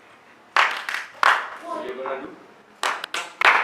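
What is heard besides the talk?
single hand claps by audience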